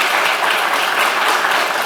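Dense, steady audience applause in an auditorium welcoming a medical journalist to the stage, loud and close, with no talking.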